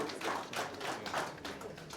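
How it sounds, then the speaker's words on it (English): A modest round of clapping from the crowd at a football club kit launch, uneven hand claps rising and falling over two seconds, fairly quiet and with no voices over it. "Let's just give them a round of applause."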